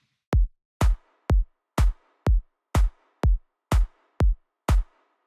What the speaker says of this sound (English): if we check out this clap together with a kick